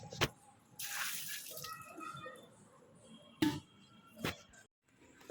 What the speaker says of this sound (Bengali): এখন আমরা এই যে হাড়ি ধুচ্ছে আমাদের।